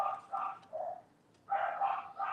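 Dogs bark off to one side indoors as a fence worker arrives, giving a steady series of about six harmonic barks in two clusters with a brief pause between them, moderately distant.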